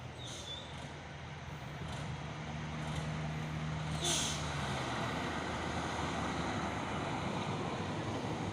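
A Mitsubishi Fuso truck labours up a steep hill at Bukit Kodok, its engine a low, distant, steady drone mixed with wind and faint hissing bursts, with no talking.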